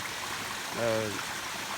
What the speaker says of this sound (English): We found this like little waterfall